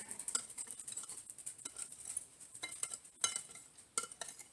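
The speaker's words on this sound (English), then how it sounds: "Just give it a good mix." A spoon mixes eggless, dairy-free chocolate cake batter made with baking soda and lemon juice, scraping and clinking steadily against the bowl in quiet, irregular strokes, close by with no talk.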